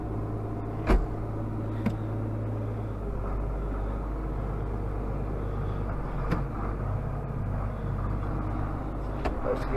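A John Deere 4440 tractor fitted with dual wheels pulls away, its low engine rumble swelling after a few sharp clicks and knocks, then running steadily near and fairly quiet.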